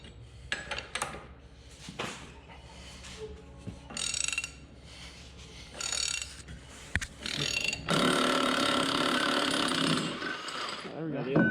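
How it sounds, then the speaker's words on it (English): An impact wrench hammers at rusty wheel bolts on a John Deere 7220 tractor, with loud bursts of mechanical rattling and ratcheting separated by pauses, ending in a long, sustained burst. "You can get it with the impact."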